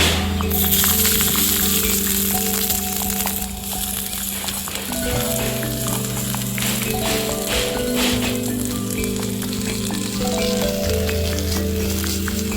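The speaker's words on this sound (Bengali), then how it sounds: "তারপর কড়াইয়ে শাকগুলোকেও দিয়ে দিলাম" Leafy greens and green chilies fry in mustard oil in a wok, giving a loud, dense crackling sizzle that runs throughout with a steady low hum underneath.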